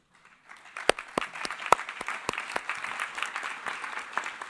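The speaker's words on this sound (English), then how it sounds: "I think we should give them another applause." Delegates at a UN regional commissions session on implementing the SDGs applaud the moderator and panelists: dense, sustained clapping from a room of people, with a few sharp, loud individual claps standing out near the start.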